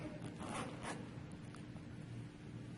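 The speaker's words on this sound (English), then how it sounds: "it's easy to zip back up" A zipper on a genuine leather wristlet bag is drawn closed in a few quick rasping pulls. The sound is close and faint, with soft handling noise after it and no speech.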